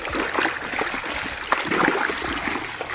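Irrigation water flowing into a jowar field at night, a steady splashing, trickling rush of water running close by, with no talk over it.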